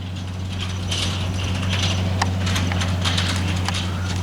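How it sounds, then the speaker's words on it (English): Power steering pump on a Land Rover gives a steady low hum with irregular whining and clicking mechanical noise over it, moderately loud and continuous, with no talk. "Oh, that's the power steering pump. Makes that noise."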